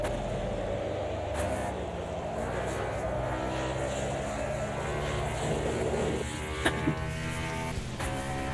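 Lamborghini Super Trofeo race car in the Automobilista 2 racing game, a steady droning engine note that holds throughout, with the pitch shifting near the end and a couple of brief clicks.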